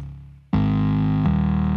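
Moog synth run through LA610 and Neve channel strips with full tape emulation gives a fat, crunchy sustained low tone that cuts in abruptly after a softer lead-in and holds steady with a slight shift partway.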